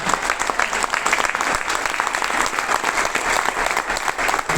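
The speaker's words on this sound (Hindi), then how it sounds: "रुकनी नहीं चाहिए, तालियां बजती रहनी चाहिए" An audience claps steadily and densely at an Enagic Kangen Water gathering, a loud, continuous wash of many hands with no pauses and no voices.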